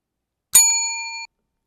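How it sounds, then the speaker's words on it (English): A single bright bell ding rings out alone and sustains briefly before cutting off, marking a change to the next slide in a presentation. "when you hear the bell ring"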